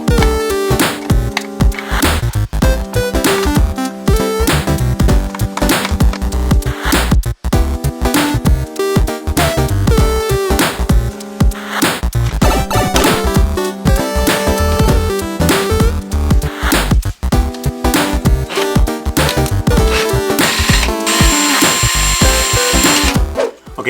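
A power drill drives screws into a mount for a Nintendo Wii wheel used as a steering wheel, whirring loudly and continuously at close range with brief dips as the bit catches.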